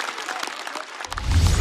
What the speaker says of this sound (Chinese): 真的，再次掌声送给鸡排哥